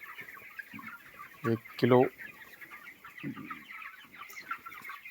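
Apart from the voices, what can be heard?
21-day-old broiler chickens on a poultry farm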